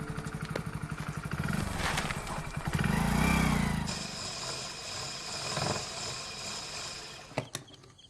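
A motor vehicle engine, most likely a motorcycle, runs steadily and swells louder as riders set off, with a loud, near rumble that fades and a sharp clatter near the end.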